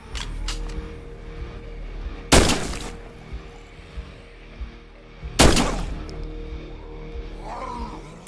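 Gunfire in the video game State of Decay: two loud, sharp shots about three seconds apart, each with a brief ringing tail, over a low background hum.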